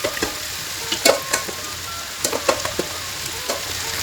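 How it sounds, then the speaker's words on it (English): Mutton fried rice sizzles in a hot pan while a utensil stirs and scrapes through it, giving a run of sharp, irregular scraping clicks over a steady frying hiss, close and moderately loud, with no talking. "so we just try to give them a good stir"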